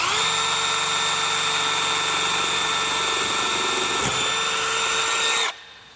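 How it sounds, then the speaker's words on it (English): A power drill clears a hole through a wall stud in a garage under construction. Its loud, steady motor whine runs for about five seconds with no talk, then cuts off abruptly. "drilled the hole from the other side, so now I'm just clearing it from this side"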